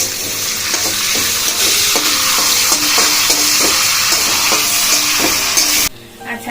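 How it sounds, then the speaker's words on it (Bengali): Cashews and raisins fry in hot oil with bay leaf, cinnamon, cardamom and cloves for a vegetarian pulao, giving a steady close sizzle with repeated stirring scrapes that cuts off abruptly near the end. "এবার দেখো কাজু কিশমিশটা হালকা ভাজা হয়েছে।"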